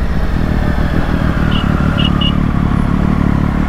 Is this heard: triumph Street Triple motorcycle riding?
yes